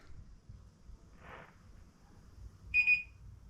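Chamberlain garage door opener giving a single short electronic beep near the end, standing out over a low background rumble in an otherwise quiet room.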